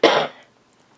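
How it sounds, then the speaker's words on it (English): A single sharp cough, loud and close, fading quickly into silence. "Excuse me, I have a little bit of a cough."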